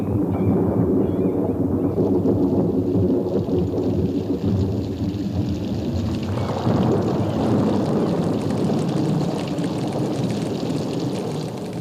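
A growing rainstorm with wind and thunder where wild chimpanzees live: a loud, steady roar of rain and gusting wind, with deep rumbling underneath and no voices.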